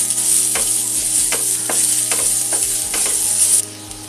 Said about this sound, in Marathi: कांदा आपला भाजून झालेला आहे